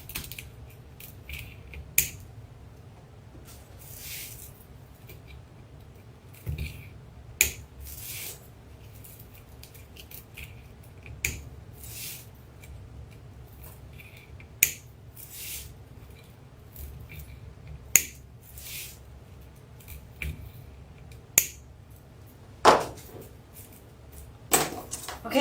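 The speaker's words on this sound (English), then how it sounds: "you can pull and then go down and snip, pull, snip all the way around" Scissors snip repeatedly while pinwheel petal flowers are made, sharp isolated cuts spaced every second or two over a soft rustling background, close and fairly quiet.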